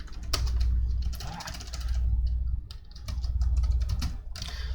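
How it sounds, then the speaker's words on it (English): Typing on a computer keyboard comes through as a quick, close run of clicking keystrokes over a steady low hum. "we're just going to type in zeros"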